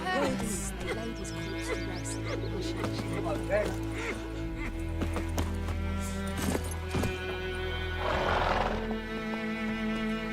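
A horse galloping in The Witcher 3 video game, its hooves clopping steadily under a constant music bed, with a whinny and a rising burst of noise near the end.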